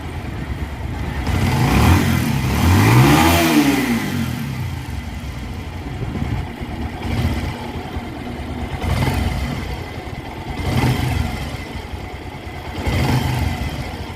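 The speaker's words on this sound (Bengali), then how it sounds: "বাইকটা আমাদের ইঞ্জিনটা স্টার্ট হয়ে গেছে তো একটা সেসিসে উঠাই দিছি তো ইঞ্জিনের সাউন্ডটা শুনেন" A rebuilt Bajaj Pulsar motorcycle engine runs on a stand, revving up in a rising, falling sweep and then settling into a steady idle with repeated small throttle blips, loud and close.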